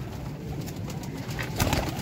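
Pigeons at a loft of birds kept for sale coo softly and continuously at close range, a low murmuring with a brief louder burst near the end.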